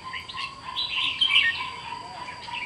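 A caged songbird, a crested bulbul, gives repeated bright chirps and short warbling phrases, fairly close and clear over a faint steady background hum.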